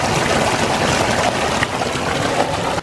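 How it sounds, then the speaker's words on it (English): Water from a rock waterfall on a hill splashes thickly into a pond, churning continuously in a dense, deep, rushing roar, close and loud with no pauses. "the deep sound of the water splashing, thick water splashing into a hole."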